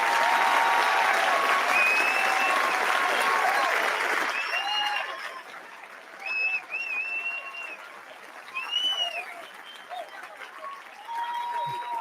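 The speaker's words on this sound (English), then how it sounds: "Let's give one big round of applause to our final team." An indie game pitch competition audience applauds the final team: several seconds of loud, dense clapping that fades, then a quieter stretch with scattered cheers and voices above light residual clapping.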